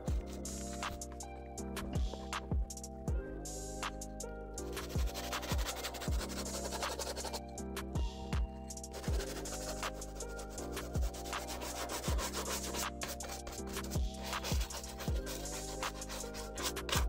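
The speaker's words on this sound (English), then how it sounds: "Just grab a clean cloth and wipe it down nice and dry." A cloth rubs and wipes over leather Timberland boots in steady, continuous strokes, close and fairly loud, with a tonal hum running underneath and no speech.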